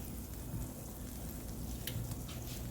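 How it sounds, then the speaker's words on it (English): Butter melting in a skillet for a lemon butter caper sauce gives a steady, soft sizzle with faint crackles, continuous and fairly quiet, close by with no talking. "we're going to melt about 2 tablespoons of butter"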